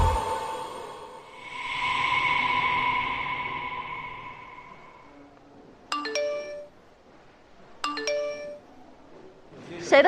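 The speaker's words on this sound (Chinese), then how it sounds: "谁的手机来消息了？" Phone chiming with a message notification, two bright repeated ding tones a couple of seconds apart and a third at the end, after a stretch of steady background hum and tonal noise.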